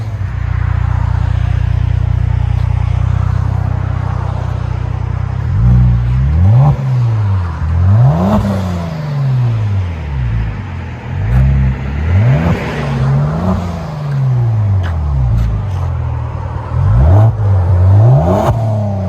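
A Kia Stinger GT 3.3L twin-turbo V6 with a muffler delete revs repeatedly with a loud, raspy exhaust, rising and falling in quick successive bursts from idle, close by.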